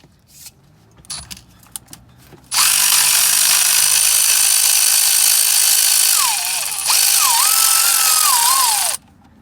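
A power tool with a 1/2 inch socket spins out a differential cover bolt on a 2004 Ford F-150 4.6L 4x4. Light clinks come first, then a loud, continuous whir for about six seconds that wavers near the end before stopping, close up.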